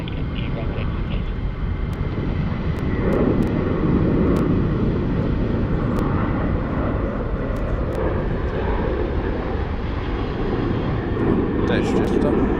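A Jetstar airliner at Sydney Airport passes with a broad, steady engine roar that swells slightly and holds, loud and continuous from a moderate distance.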